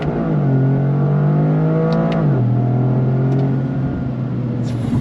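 A 2025 Toyota GR Corolla with an eight-speed automatic accelerates on throttle, its engine note rising steadily and loudly, dipping briefly at a shift, then climbing again from inside the cabin.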